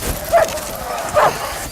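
Two short sled dog barks or yips, about a second apart, close by over a low background rumble.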